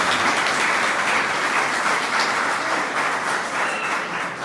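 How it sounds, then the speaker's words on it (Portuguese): A church congregation claps together after a sermon, a dense, even wash of applause that holds steady and tapers briefly near the end. "Vamos aplaudir o Senhor por esta palavra?"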